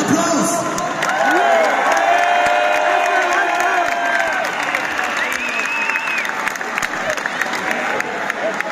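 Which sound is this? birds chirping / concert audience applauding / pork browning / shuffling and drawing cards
concert audience applauding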